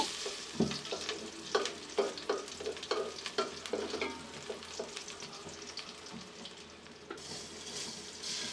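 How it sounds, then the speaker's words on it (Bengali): Chopped onion frying in oil in a cooking pot for beef tehari, a steady close sizzle broken by repeated stirring scrapes and clinks, with no talking. "এদিকে অন্য হাঁড়িতে তেল দিয়ে পেঁয়াজ কুচি দিয়ে"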